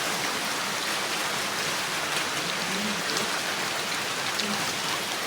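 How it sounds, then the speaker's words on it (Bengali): Steady rain falling outside, a dense even hiss of drops on surfaces, continuous and fairly close, with no voices. "প্রত্যেক দিনই বৃষ্টি হচ্ছে বাহিরে এই যে বৃষ্টি পড়তেছে"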